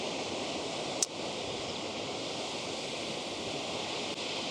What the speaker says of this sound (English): this is first time in my stay in South Africa I saw such a beautiful waterfall